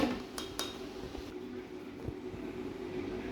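Dishes and utensils clink while almond milk sharbat is served: a couple of bright clinks early on, then softer scattered taps over a low, steady room hum.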